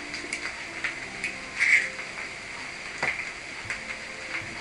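Soft, steady sizzling of egg frying in a pan for a Japanese-style pan pizza, with faint crackles and a few light pops over a quiet hiss.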